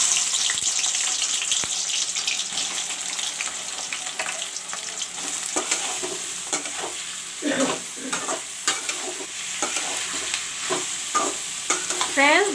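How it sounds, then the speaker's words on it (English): Onions fry in hot oil for a chicken korma, a steady bright sizzle with scraping and stirring clatters from a spoon in the pan, close and continuous. "now I will put in the onions to fry because oil is turned hot"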